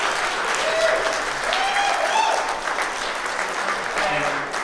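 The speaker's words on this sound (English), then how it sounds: "Give us a round of applause." Wedding guests applaud in a sustained round of clapping at an evening reception, a dense steady wash of hands with a few faint voices and whistles mixed in.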